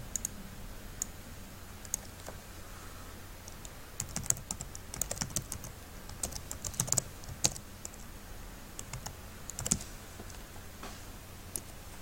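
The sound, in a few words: typing on a computer keyboard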